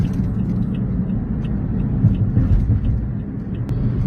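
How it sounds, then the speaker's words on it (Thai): A low, steady engine and road rumble comes from inside a car crawling through a 7 a.m. traffic jam on Chaeng Watthana Road in Thailand. The drone is continuous and moderately loud, with faint traffic sounds around it and no talking. "รถติดนะคะเนาะ"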